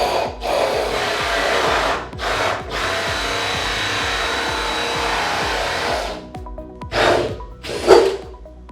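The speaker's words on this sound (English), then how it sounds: "I can go on the other side and drill it through" A power drill bores a pilot hole through wood while building a paper roll caddy, a steady loud whine running for about six seconds, then stopping before two short bursts of drilling from the other side.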